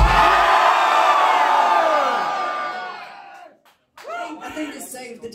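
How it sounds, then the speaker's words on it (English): At a pirate-themed metal concert in the UK, a packed crowd lets out a loud, sustained collective scream that fades over a few seconds. A brief silence follows, then scattered shouts and voices rise again. "can you please show or let them hear actually what a real pirate scream is?"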